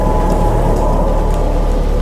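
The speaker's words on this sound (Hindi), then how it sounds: "काले बादल छा गए, भयानक तूफान आ गया, हवाएं चीत्कार करने लगी, बिजली कड़कने लगी।" A heavy storm roars with continuous dense rain and wind, low thunder rumbling through it, loud and steady with no pauses.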